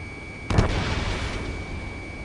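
A missile fires and explodes in the video game Ace Combat 7, one sharp boom followed by a rumbling tail over a steady background hum.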